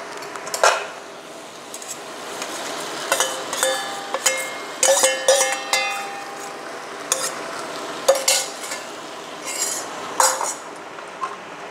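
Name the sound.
jackfruit being added to a pan and stirred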